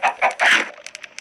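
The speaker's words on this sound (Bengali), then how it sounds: "এই তো মুরগি আসো আসো" Chickens cluck in the video game Island Craft: three loud, close clucks in quick succession, followed by fainter short clicks.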